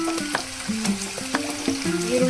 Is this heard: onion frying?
yes